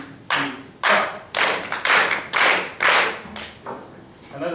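A single person claps hands four times in a steady, even rhythm, each clap sharp and close, with brief gaps between and a faint fifth clap trailing at the end.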